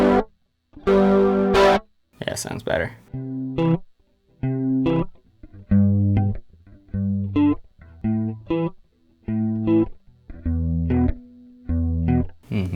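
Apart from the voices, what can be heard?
guitar loop with chorus effect added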